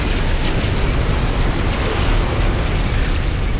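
Spaceship guns firing in the space game No Man's Sky, a dense, continuous roar of blasts and bursts at steady loudness throughout, with no distinct gaps between shots.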